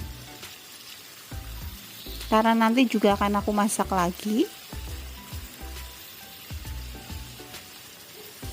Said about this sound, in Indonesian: Lalu si daging sapinya aku goreng